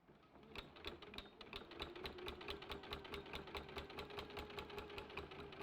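A sewing machine quilts through several layers of fabric, its needle hammering in a fast, even rhythmic chatter that runs steadily from near the start.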